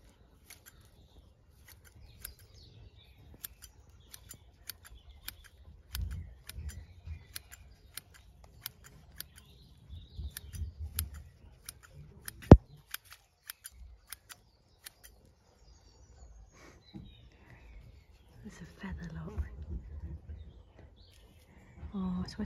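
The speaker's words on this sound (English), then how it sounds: "I'm just gonna do it with scissors." Scissors trim small, overgrown garden shrubs with quick runs of crisp snips, close and fairly quiet, repeating in bursts and broken by one sharp louder click midway.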